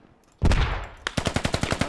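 A single loud gunshot booms in a video game, followed by a rapid burst of automatic gunfire, about a dozen sharp evenly spaced shots.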